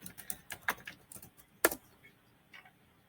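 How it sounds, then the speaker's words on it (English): Quick computer keyboard typing, entering a search into an internet browser: a short run of light key clicks with one sharper tap near the middle, close and quiet, no voices. "I'm going to open my internet browser and I'm going to type in badminton"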